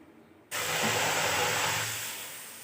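Milk poured into a hot karahi for chicken white karahi, already holding ground garlic, ginger and green chilli, bursts into a loud, steady hiss that starts abruptly and slowly fades over a couple of seconds.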